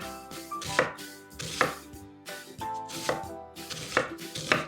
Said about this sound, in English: all we're going to do is do some nice thin slices